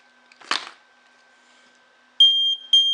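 A buzzer on a homemade motion detector alarm sounds two loud, shrill electronic beeps near the end, after a brief rustle and near-silence.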